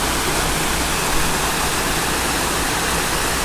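Steady broadband rush of clear flowing water at a resort in Naga City, Philippines, continuous and fairly loud with no breaks, heard alone without voices.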